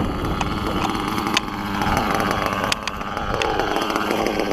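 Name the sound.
RC car engine idling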